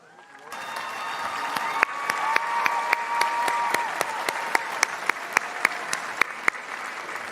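Graduation audience at a high school ceremony applauding steadily, a dense sustained clapping from a large crowd with scattered sharper claps near the microphone, no talk over it.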